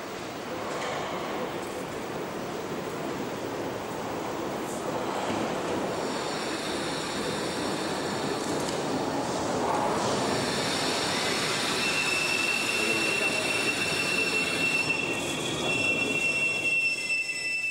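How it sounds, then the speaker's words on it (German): A passenger train rolls into Berlin's Friedrichstraße border station with steady rumbling, then high metallic wheel squeals rise and persist over the noise, growing louder toward the end. "Danach traf der erste Fahrgastzug von West nach Ost ein."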